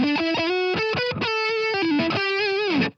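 Overdriven electric guitar through a Fender Mustang LT25 combo amp, a short loud phrase of quick picked notes and slides ending in a held bend that cuts off, close and alone without speech.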